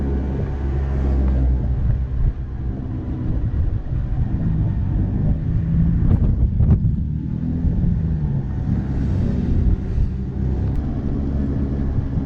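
Strong cold winter wind roars and buffets against the microphone in a continuous heavy rush while riding a motorcycle near Akishima City, Japan, with some rumbling traffic underneath.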